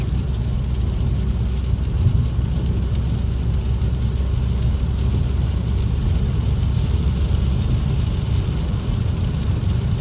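Steady low road and engine drone from inside a Volvo V50 estate with a 1.6 diesel and six-speed manual, cruising in sixth gear and gaining speed toward 110 on a highway, continuous and fairly loud with no talking.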